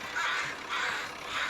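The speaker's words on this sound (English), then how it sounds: "Noisy old crows" Two or three harsh caws from crows ring out in quick succession, moderately near and loud, with no other sounds around them.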